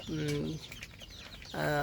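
Fayoumi chickens give two short bursts of clucking, one near the start and one at the end, with a quieter stretch of background noise between them.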